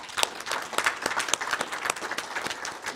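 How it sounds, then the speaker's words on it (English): Conference audience applauds panelists with dense, continuous clapping from a crowd, steady and fairly loud for a few seconds. "So a round of applause for our panelists"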